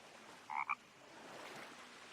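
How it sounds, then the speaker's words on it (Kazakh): A frog in a forest gives a brief double croak, two quick rough pulses over quiet outdoor background hiss. "Бақаның дауысы шықты ғой енді."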